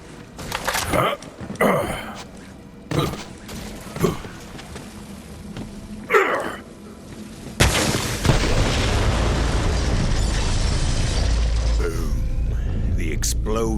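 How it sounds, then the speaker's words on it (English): Borderlands 3 gameplay carries a run of sharp gunshots and impacts, then a large explosion that swells into a long, roaring, rumbling wash. A voice talks over the early shots. "The explosion echoed through the forest"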